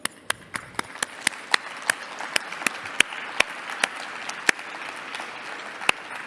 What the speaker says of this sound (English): we have to give a big applause